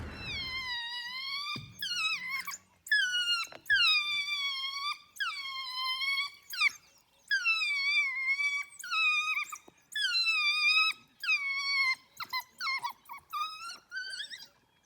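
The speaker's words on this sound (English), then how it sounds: "one individual who had clearly lost out on their feeding session that morning and was just running around begging for food, as only wild dogs can" An African wild dog whines and begs for food, giving repeated high, wavering squeals in short bursts separated by brief pauses, close and fairly loud, with no talking.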